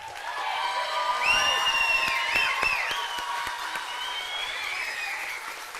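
Audience applause mixed with cheers and whoops fills a school steel band spring concert, dense and steady throughout, with a few sharp shouts rising above the crowd.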